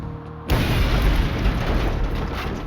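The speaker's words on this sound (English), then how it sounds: "The explosion was ferocious" A bomb detonates in a parking lot with a sudden deep boom, and a loud rumbling roar then fills the space and lingers for a couple of seconds without fading much.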